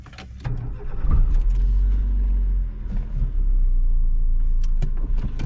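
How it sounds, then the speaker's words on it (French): A Nissan Micra 1.4 Confort with a 1348 cc engine cranks briefly and catches, settling into a loud, low, steady idle rumble with a few small clicks and knocks around it, heard close from inside the car. "Qui démarre comme un moteur japonais, ça démarre tout le temps."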